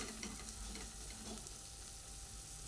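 Garam masala and a ground spice paste frying and being stirred in a pan for an aubergine curry, giving a steady low sizzle with soft scraping, faint and continuous with no talk.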